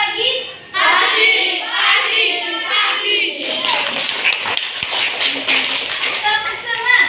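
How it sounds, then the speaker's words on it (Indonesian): A class of primary school pupils claps out a rhythmic tepuk semangat cheer, with loud overlapping voices chanting along and bursts of fast clapping that grow busier toward the end. "Kita tepuk semangat dulu yuk."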